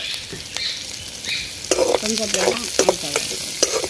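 Green chillies and curry leaves sizzle in a pan for a Jaffna crab curry, a steady frying hiss broken by sharp crackles and the clatter of stirring, growing busier halfway through.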